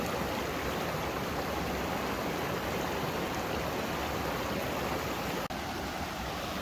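Clear mountain stream in the San Juan Mountains flowing steadily, a loud, close, unbroken rushing and babbling of water with no voices.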